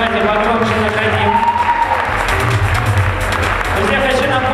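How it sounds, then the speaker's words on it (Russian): An audience at a KVN student comedy league show applauds a team with steady, dense clapping and some cheering that fills the hall, while a host speaks over the noise. "Аплодисменты этой команде. Давайте погромче"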